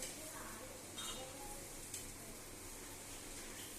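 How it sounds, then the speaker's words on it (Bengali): Luchi frying in hot oil in a home kitchen, a soft, steady sizzle with light stirring and faint clinks, fairly quiet throughout. "একটা একটা করে ছাড়ছি তেলে"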